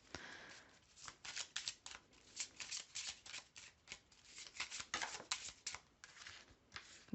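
Tarot cards shuffled by hand in a steady run of quick, close riffling flutters, repeated many times at a soft, intimate level.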